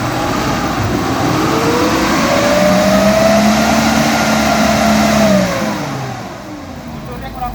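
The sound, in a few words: off-road car engine revving as gas is applied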